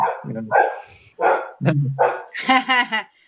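A dog gives a close, loud series of barks and yips in irregular bursts, ending in a higher, whining yelp.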